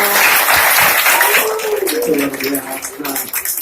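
Audience applause at a live Islamic study session held at a shoe company in Jakarta, a loud burst of clapping that thins out while voices talk over it.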